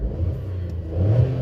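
A car engine holds a steady revving note, rising slightly near the end, close and loud with a low rumbling drone and no speech.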